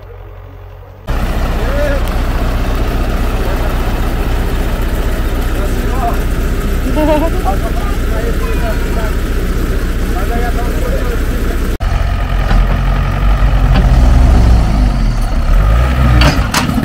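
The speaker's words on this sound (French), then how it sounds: "Ouais, j'entends le tracteur, il arrive." A heavy tractor engine rumbles steadily and grows louder and rougher toward the end as it draws near.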